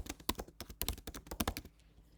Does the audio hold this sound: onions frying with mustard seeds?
no